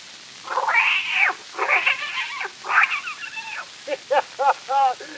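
On an early Christmas recording from 1898 to 1922, a kitten meows repeatedly and loudly, with a few long drawn-out cries followed by a quicker series of short, rising mews.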